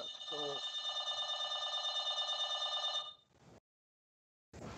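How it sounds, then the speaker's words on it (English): An electronic door chime or bell rings steadily for about three seconds at moderate loudness, then cuts off into silence before a brief return at the end, with a faint voice near the start. "someone is ringing the door."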